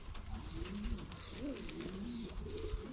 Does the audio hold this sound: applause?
no